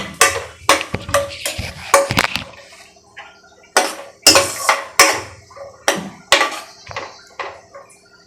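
About four spoons of cashews fry in ghee in a pan for semiya kesari. A utensil stirs them with sharp, irregular metallic clinks and scrapes against the pan, close and loud, separated by brief pauses, with no talk.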